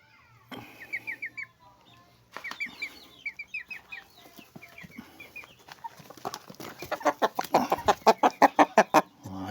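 Chicks and hens cluck and peep in overlapping bursts, scattered at first, then building into a loud, steady run of rhythmic clucks near the end, close by and without speech.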